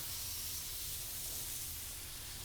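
Skewers marinated with onion, garlic and ginger cook on a hot surface, giving a loud, steady, unbroken hiss and sizzle from start to finish.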